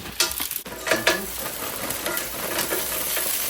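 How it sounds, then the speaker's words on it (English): Frozen organic Normandy stir-fry vegetables land in a hot cast iron pan with a clatter, then a steady broad sizzle carries on alone, close and fairly loud. "So I'm going to take this and dump it in this cast iron."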